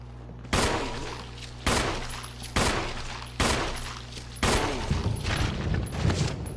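A pistol fires five loud, evenly spaced shots at a zombie in the survival-horror video game Resident Evil, and each crack trails off in a booming echo before the next.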